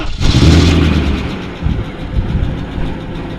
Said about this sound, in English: we'll see this thing sounds like when we fire it up